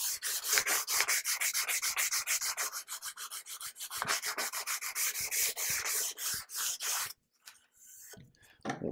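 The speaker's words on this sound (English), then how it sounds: "I'm going to go ahead and sand this down real quick." Sandpaper rubs briskly along the rounded-over edge of a hand-planed wooden board in quick, evenly spaced back-and-forth strokes, close and fairly loud, running for about seven seconds before stopping, with a couple of softer strokes afterward.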